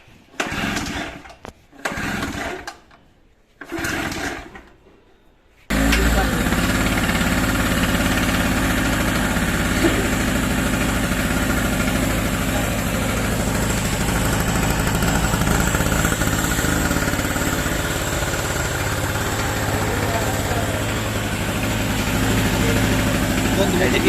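A new Total 800W gasoline generator engine starts and settles into a steady, loud, close mechanical drone with buzzing vibration, following a few brief pull-start attempts, with a voice briefly at the start.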